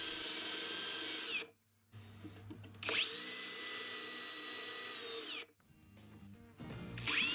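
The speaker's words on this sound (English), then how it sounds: "used the Forstner bit to drill from both the top down and the bottom up" A power drill with a Forstner bit whines at high speed through wood in two long bursts, its pitch dipping as it bites, separated by short quiet pauses before starting again.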